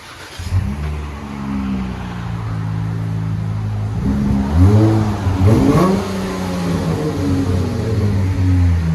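A 2016 Dodge Charger 3.6L V6 with dual exhaust and the rear resonator deleted revs repeatedly, deep throaty engine rising and falling in several close, loud pulls over idle.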